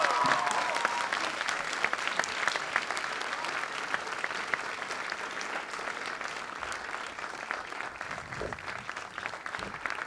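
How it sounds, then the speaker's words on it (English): Audience applause at a staged act, continuous clapping from a crowd at moderate distance, steady and unbroken for about ten seconds. "Can we give them a massive round of applause?"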